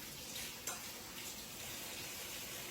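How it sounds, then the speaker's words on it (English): Soft, steady hiss of running tap water while hands are washed at a sink in a home kitchen, faint and continuous with a brief splash near the start, no voices. "Give me just a minute while I wash my hands again."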